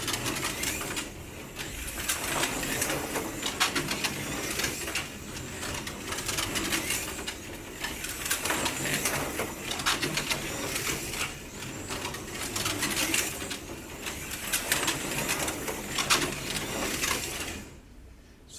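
An NSR Porsche 917K Gulf slot car with its magnet fitted runs on a Carrera track, giving a steady buzzing motor whine with a faint scraping of the body on the track surface, continuous and fairly quiet, no talking.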